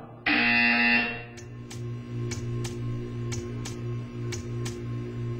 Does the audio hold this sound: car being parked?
no